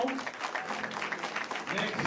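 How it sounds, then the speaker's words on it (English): Round of applause for a panel at a public forum on jail health services, a scattered, moderately loud clapping from a modest audience mixed with some voices. "Ladies and gentlemen, please round of applause for our panel."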